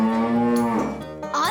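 A cow lets out a single drawn-out moo, loud and close, its voice sliding in pitch before breaking off at the end.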